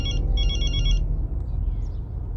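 A telephone rings with a bright electronic trill, one long burst followed by a pause and fading ring, fairly loud over low background hum.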